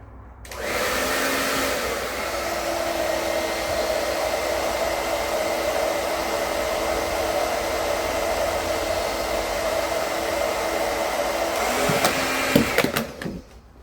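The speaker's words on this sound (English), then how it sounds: "I'll just use a hairdryer to get the humidity level to drop." A hairdryer blows steadily and loudly for about twelve seconds to bring down room humidity, a constant airy whoosh with a motor whine that cuts off abruptly near the end. No voices are heard.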